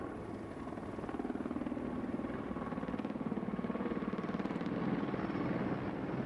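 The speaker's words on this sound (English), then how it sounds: "They really had like those different design of their helicopters. Really like the sound of it." Several military helicopters pass over a Victory Day parade in Russia in 2020, their rotors thudding in a steady, continuous beat. The sound stays loud throughout, with no talking.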